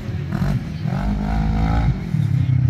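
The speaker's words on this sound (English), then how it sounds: "First up, we got Drew in a RZR 1000 XP." A Polaris RZR 1000 XP side-by-side, non-turbo, races a dirt rally course, its engine revving and changing pitch steadily across the clip, fairly close and loud, with a clattering, rumbling edge.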